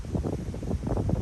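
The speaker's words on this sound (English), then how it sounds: "Is it too windy?" Strong wind buffets a microphone on a beach in Guam, a continuous rough roaring rumble with gusty surges, loud and close with no other sounds.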